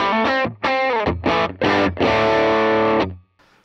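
Electric guitar played through a UAFX Ruby amp pedal on the normal channel with the boost engaged, a short distorted riff of several loud, gritty notes ending on a sustained chord that cuts off into quiet.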